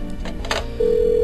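In the video game Parasite Eve II, a telephone starts ringing with a steady, loud electronic tone that cuts in partway through after a brief burst of other game sounds.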